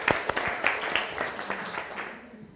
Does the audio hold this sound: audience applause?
yes